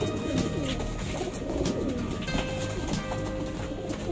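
Pigeons coo in a steady, close chorus of soft low throaty calls, overlapping continuously with some brief flutters and shuffles.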